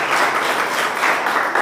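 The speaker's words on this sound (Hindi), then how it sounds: "तालियां बजाइएगा।" Church congregation applauding during a Hindi sermon, a steady dense wash of clapping that fills the whole moment at fairly even loudness, with no voice over it.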